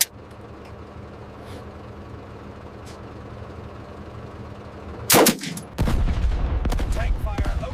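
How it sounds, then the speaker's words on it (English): Tank cannon and gunfire in a North Africa desert-front war video game: a low rumbling lull, then a sharp, loud blast midway, followed by sustained heavy firing. "Tank fire opens up on the retreating piece of supplies."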